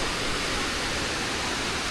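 Tumpak Sewu waterfall in Indonesia roars as a steady, dense wash of falling water, loud and unbroken throughout with no voices.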